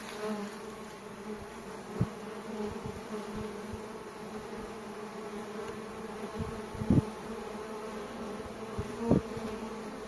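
Honeybees hum in autumn as they work and carry pollen, a soft continuous buzzing swarm heard close by, with a few brief louder passes of single bees near the microphone.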